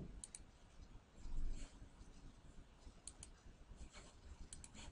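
Clicks of a computer mouse saving a character in a cartoon animation tool, a few sharp ticks near the start and again around the third and fourth seconds over a faint background hiss.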